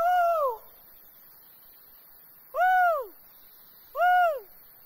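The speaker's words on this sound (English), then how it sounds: "Two calls means the tracker has the animals in sight" A tracker's call signal rings out across mountains and valleys during a lemur-tracking expedition: three loud, clear hooting calls, one long and two shorter, separated by pauses of quiet.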